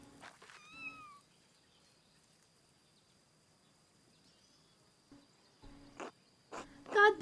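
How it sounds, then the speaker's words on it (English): A cat meows once, loud and close, in the medieval adventure game Pentiment, followed by faint quiet and a few short game sounds and soft voice-like bursts near the end. "You gotta pet the cat."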